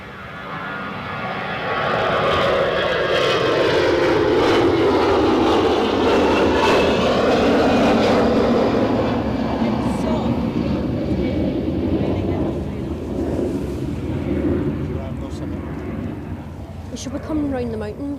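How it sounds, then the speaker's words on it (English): A passenger jet departs Edinburgh Airport bound for Munich, its engine roar swelling loud and broad, then holding steady before slowly fading into the distance, with people talking over it. "this one's off to Munich"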